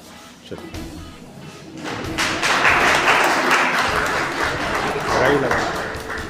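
A crowd at a Holi Milan gathering in Vasant Kunj breaks into loud, dense applause after a brief lead-in, the clapping swelling and holding steady while a voice carries over it.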